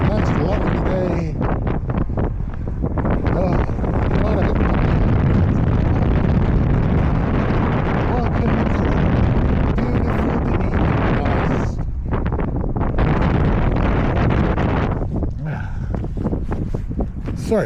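Strong wind gusts roar continuously into the microphone during an e-bike ride, making a loud, dense rumble with brief dips as the gusts ease.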